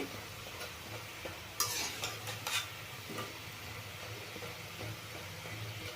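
Kodubale dough rings frying in hot oil over a medium flame, a steady close sizzle with scattered crackles and a few brief louder bursts, with no talking.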